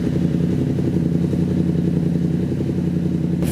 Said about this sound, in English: Check out how it idles now.